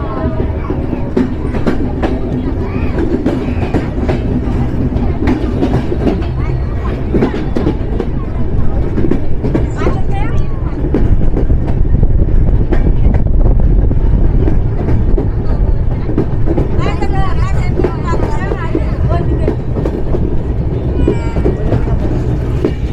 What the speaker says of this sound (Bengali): অবশেষে জয়পুরহাট রেলওয়ে স্টেশন থেকে নির্ধারিত সময় যাত্রাবিরতি সম্পূর্ণ করে আন্তনগর পঞ্চগড় এক্সপ্রেস ছেড়ে যাচ্ছে